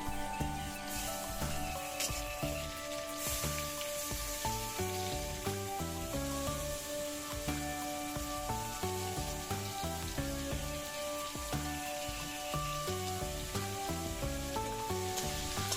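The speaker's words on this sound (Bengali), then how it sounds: "পেঁয়াজগুলো ভাজা ভাজা হয়ে এসেছে, এরপর বেছে রাখা চিংড়ি মাছগুলো দিয়ে দিলাম।" Shrimp goes into a pan of fried onions in hot oil and sizzles faintly and steadily beneath louder background music.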